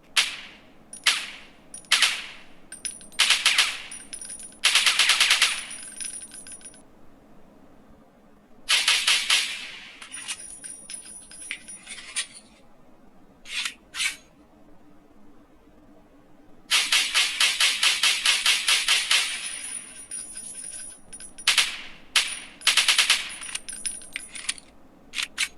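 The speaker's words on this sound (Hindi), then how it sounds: "तो ये आवाज़ जो गन शॉट की आवाज़ आ रही है" Video game gunfire played through truly wireless earbuds in gaming mode: sharp, bright bursts of rapid shots in clusters, separated by brief quiet gaps.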